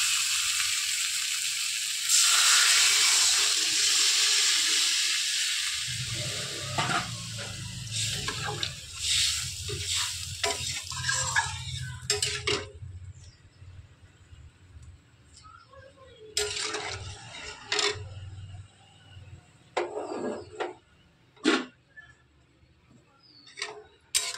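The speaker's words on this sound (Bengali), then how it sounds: "এখন আমি জলটা দিয়ে দেবো" Water is poured into a pan of sizzling egg curry, a burst of hiss and rushing liquid that settles into a low bubbling, followed by scattered clinks and scrapes of utensils and brief faint talk.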